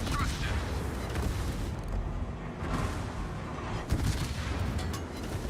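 Dense, rumbling naval gunfire and explosions in the World of Warships game during a battle with a ship on fire. Booming blasts overlap continuously, with a few sharper bangs standing out.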